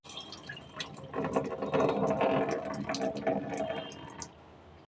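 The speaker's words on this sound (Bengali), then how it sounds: "এতে কিন্তু আমি খাওয়ার জল দিয়ে দিলাম।" Drinking water pours steadily into a bowl of soaked lentils for idli batter, a bubbling, splashing fill lasting several seconds before stopping abruptly.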